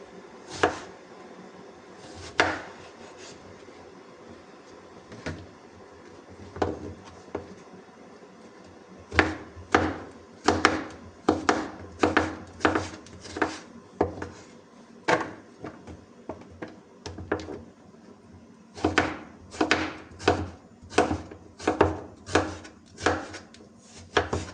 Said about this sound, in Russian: Баклажаны режу соломкой.